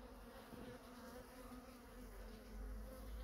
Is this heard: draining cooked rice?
no